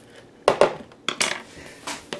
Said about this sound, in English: we're gonna drop those three sausages in there